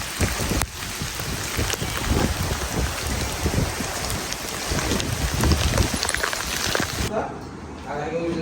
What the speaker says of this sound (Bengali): বাইরে হলো অনেক পরিমাণ বৃষ্টি হইতেছে